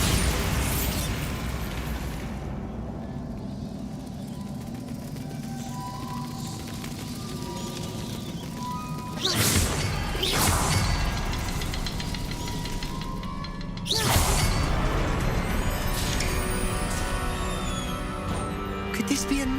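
A Bombarda spell detonates in Hogwarts Legacy, landing as two loud, sudden blasts several seconds apart over a steady ambient game bed.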